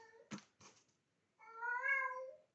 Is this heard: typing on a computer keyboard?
no